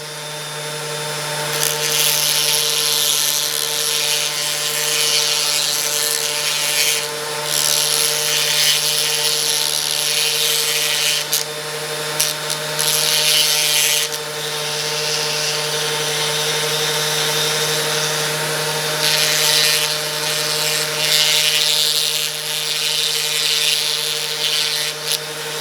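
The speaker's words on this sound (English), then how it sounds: "now I'm going to turn the Dremel off" Dremel rotary tool grinding dog nail clippers to sharpen them, a loud continuous high-pitched whine with a rasping edge that swells and eases slightly as the blade is worked, close and without talk.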